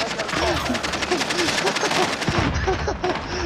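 Rapid machine-gun fire in the video game Call of Duty Warzone, loud and continuous with steady rhythmic reports throughout, under excited voices talking over it.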